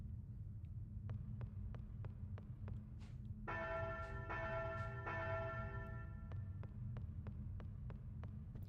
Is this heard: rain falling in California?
no